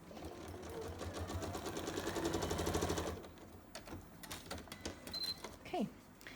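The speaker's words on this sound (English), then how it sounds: "put it under my machine and sew on the 6th line" Sewing machine stitching fabric along a line for foundation paper piecing, a steady rapid mechanical chatter for about three seconds that then stops, followed by faint handling noises.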